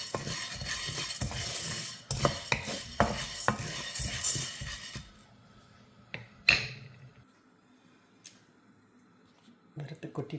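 A utensil stirs rice as it dry-roasts in a pan. Busy scraping and clinking against the metal fill the first half, then give way to a few sparse, quieter knocks and scrapes.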